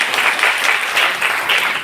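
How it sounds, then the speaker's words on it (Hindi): Steady, dense applause from an audience at a book launch ceremony at a college in Belagavi, loud and sustained throughout with no voices over it. "क्या अरुणिमा सिन्हा के लिए आप जोरदार तालियां नहीं बजाएंगे?"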